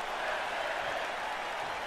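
Arena crowd cheering and applause in the WWE 2K19 wrestling video game, a continuous broad roar of clapping and crowd noise, steady and even throughout.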